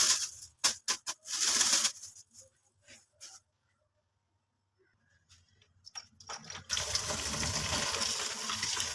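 Poppy seeds are rinsed by dipping them in water and straining them. Short splashy bursts come first, then a near-silent gap, then a steady close gush of running water.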